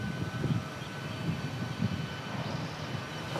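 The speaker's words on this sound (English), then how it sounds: "you can just hear the engines of the C-17 now, taxiing by." Boeing C-17 aircraft engines taxiing at an air base, heard as a steady, distant broadband jet roar and rumble that holds at a constant low level throughout.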